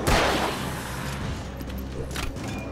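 In the video game Alan Wake, a gunshot fired at wood makes one sharp, loud blast at the start that fades into a rumbling tail, followed later by a fainter crack.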